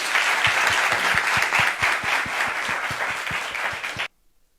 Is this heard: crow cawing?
no